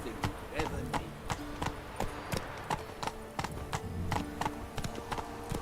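Geralt's horse Roach in the Polish version of The Witcher 3 clops along with an even rhythm of distinct hoofbeats, close and clear, while a voice talks over it.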